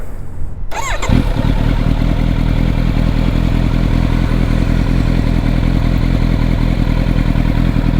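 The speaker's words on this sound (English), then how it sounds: "let's start the exhaust and hear it on idle first" A 2023 Kawasaki Z900 with an aftermarket Mivv GP Pro exhaust starts with a brief crank, then settles into a steady, loud, lumpy idle, close by and uninterrupted.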